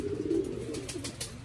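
Racing pigeons coo in a low, soft, throaty burble close by, with a few faint background noises.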